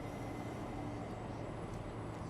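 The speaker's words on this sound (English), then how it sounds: "Tram now leaving the station." Tram pulling out of a city station, a steady low rumble and hum of rolling rail noise close by, continuous and broadband with no talk over it.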